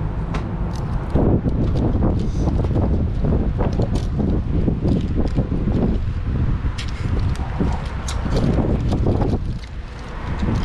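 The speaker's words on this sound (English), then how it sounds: "So windy in this patio" Gusty wind buffets an outdoor patio at a Chipotle restaurant in loud, uneven roaring bursts, rising and falling for several seconds with no speech.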